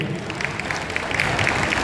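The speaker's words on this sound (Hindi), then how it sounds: "जोरदार तालियां धीरज जी के लिए" Applause from an audience at a gathering in Shri Sanatan Dharma Mandir, Model Town, a steady wash of clapping held at an even level, moderately close, with no voices over it.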